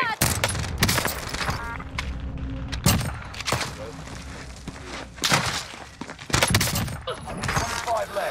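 Rapid gunfire from a PPSh-41 submachine gun in a shooter game, several bursts of automatic fire between quieter stretches, with people talking over the action.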